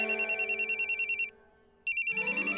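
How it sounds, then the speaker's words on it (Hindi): An electronic phone ringing in rapid repeating trills, pausing briefly before the ringing resumes, close and clear. "फोन आया है, भूचाल नहीं।"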